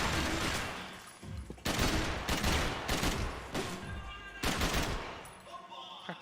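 Gunfire from the video game Max Payne 3 rattles in several loud, rapid bursts separated by short pauses, dense and close.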